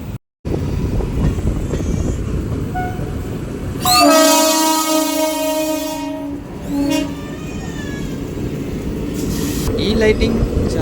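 Trains passing each other on the Medak to Kacheguda line, with a loud, sustained horn blast close by followed by a shorter second blast, over the rumble of the carriages and some talk.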